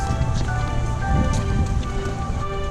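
Rain falls in a steady, even hiss, with a faint low hum running underneath.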